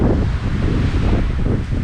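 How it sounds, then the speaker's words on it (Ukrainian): Strong mountain wind buffets the microphone high in the Carpathians, a steady loud roar with gusting low rumble that runs the whole time with no voices. "Досі неймовірно вітряний."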